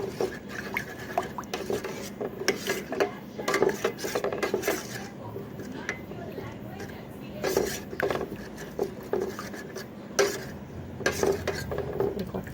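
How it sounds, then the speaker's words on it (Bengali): Aam panna mixture of raw green mango with ground black pepper being stirred in a pot, a utensil scraping and clinking against the metal in uneven bursts, close and moderately loud throughout. "এবার এটাকে ভালো করে নাড়িয়ে নেব।"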